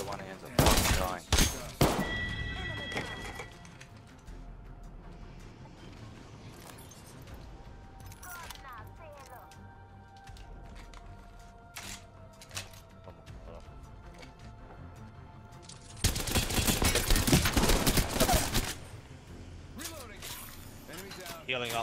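Apex Legends gunfire comes in loud close bursts at the start and again in a sustained volley later, separated by quieter stretches of game sounds and occasional voices.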